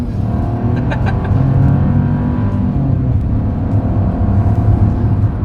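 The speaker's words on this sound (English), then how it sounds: "let's see how quickly we can get our new 2025 Buick Envista here up to speed" A 2025 Buick Envista with a turbocharged three-cylinder engine accelerates hard from a standstill, its steady droning engine note rising and sustained, heard from inside the cabin with no talking.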